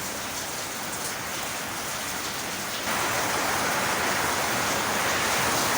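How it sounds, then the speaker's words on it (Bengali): Heavy rain pours outside, a thick continuous roar of drops that jumps noticeably louder partway through and stays steady, with no voices present. "বাহিরে প্রচণ্ড বৃষ্টি হচ্ছে"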